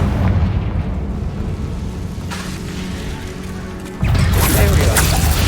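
Confringo fire spell explosions in Hogwarts Legacy, a sustained booming, roaring blast that drops out briefly and then bursts back in louder, heavy and close with crackling texture on top.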